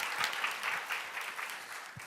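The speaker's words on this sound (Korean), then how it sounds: "박수 한번 부탁드리겠습니다" A conference audience claps after a platform presentation at an ICT event, steady applause with scattered individual claps, heard at a modest level from across the hall.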